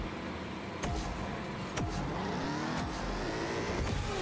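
Race car engines in Disney Speedstorm on a Halloween Trick or Treat course, a continuous close roar with several sharp whooshing pass-bys and pitch sweeps at roughly one-second intervals.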